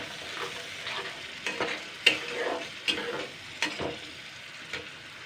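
Spice paste with turmeric being stir-fried in a pan makes a faint sizzle, broken by several soft scraping strokes as it is stirred.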